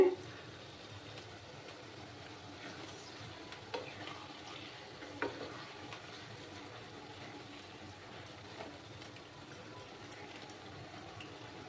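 Taro leaf greens (kochu shak) cook down in a pan as they are stirred, a soft, steady sizzle with occasional light scrapes and taps of the spoon, quiet and close, with no voice over it.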